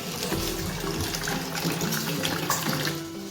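Tap water runs steadily into a cooking pot, a continuous close splashing gush with a faint low hum underneath.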